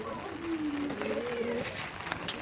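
Teddy pigeons give a soft, low cooing call that swells and wavers for about a second, close by, with light rustling and a faint brief chirp near the end.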